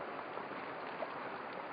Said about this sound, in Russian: Это действительно водопад, а не порог. Вода падает.